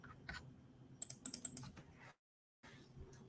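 Computer keyboard being typed on and shifted around, a quick burst of clicky keystrokes and a brief clatter, close and fairly loud, then a moment of silence before more faint keyboard handling.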